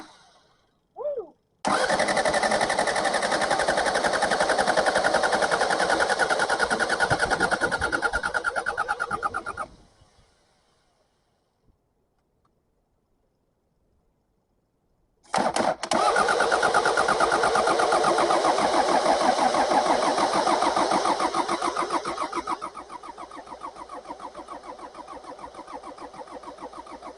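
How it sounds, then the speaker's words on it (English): An old engine cranks over on a worn starter motor and catches, running loud and close for several seconds before cutting out; after a pause of silence it fires up again and keeps running steadily, settling slightly quieter toward the end. "the starter motor's just completely on fire today."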